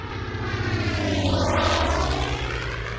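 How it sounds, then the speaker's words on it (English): A propeller airplane drones loudly overhead, its broad engine roar swelling and sweeping past with a steady, continuous rumble and no voices. "The Japanese sent a flying airplane"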